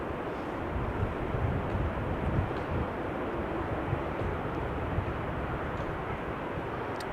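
Croatia Airlines airliner touching down on a wet runway at Amsterdam Schiphol Airport in showery weather, a steady broadband roar of engines and rolling noise lasting throughout, heard from a distance amid wind.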